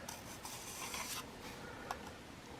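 A broadhead's flat side rubs across a 2500 grit sharpening stone, giving soft, steady scraping strokes with a few brighter swishes, close and quiet.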